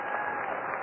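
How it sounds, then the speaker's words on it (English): A crowd at a minor-league baseball game, Lansing Lugnuts at Cedar Rapids Kernels, gives a brief, steady wash of applause heard from a distance, dense and even with no individual claps standing out. "We have a big round of applause for a serviceman who's here at the ballpark, who's been welcomed home"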